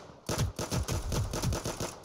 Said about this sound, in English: Let's try shooting these dudes